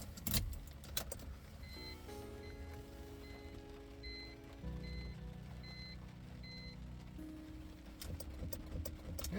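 Keys jangle as someone tries to start a BMW car with a weak battery: quiet dashboard chimes and steady electrical tones sound, and the engine never catches, with more key rattling at the start and end.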